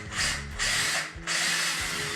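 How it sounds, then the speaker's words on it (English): A power drill whirs as it bores a hole into a wooden skateboard deck, running in loud bursts with two brief pauses between them, close up. "now I'll get the drill, and now I just gotta drill the hole right in the center."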